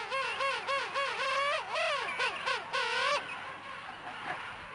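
Emperor penguins in a colony trade loud warbling calls so adult and chick can recognise each other. The close, repeated trumpeting phrases rise and fall, then give way to a wash of background colony noise.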